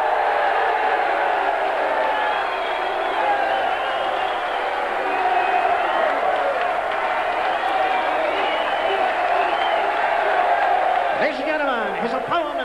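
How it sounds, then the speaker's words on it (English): A large crowd applauds and cheers at the 1987 Darts World Championship final, a dense continuous roar of clapping mixed with shouts and whoops that holds steady throughout, with a voice rising briefly near the end. "Once again, let's hear your applause, please."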